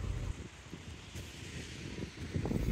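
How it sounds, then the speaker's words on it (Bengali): Steady sea breeze on Majorda Beach in Goa rushes across the microphone in continuous gusty buffeting, with a low rumble that swells near the start and end and no voices. "সাথে সুন্দর হাওয়া দিচ্ছে"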